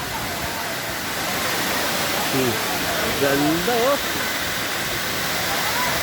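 A waterfall at a scenic resort with rental cottages pours steadily, a loud, continuous hissing roar filling the scene throughout while a person murmurs appreciatively over it.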